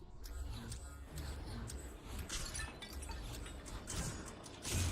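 In the VR game Sprint Vector, a glove blast shatters a target: faint, distant-sounding cracks and mechanical clicks over a quiet, steady game backdrop.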